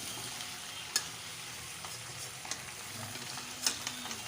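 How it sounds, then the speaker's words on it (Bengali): Ground spices are stirred through hot oil in a small pan for a vegetarian pumpkin dish, giving a soft, quiet sizzle broken by a few sharp scrapes and taps of the spoon. "ভালো করে ওপর দিয়ে নিচ দিয়ে বা তেলে নাড়িয়ে চাড়িয়ে নেব।"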